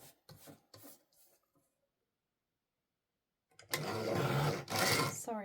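Gold card being trimmed for a Hunkydory papercraft project: a brief murmur of talk, a silent pause, then about two seconds of loud, close, rasping scrape.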